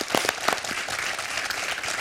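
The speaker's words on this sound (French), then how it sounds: "Est-ce qu'on peut applaudir?" Studio audience on the French quiz show Questions pour un Champion breaks into brief, lively applause, a dense burst of clapping with a few louder claps near the start.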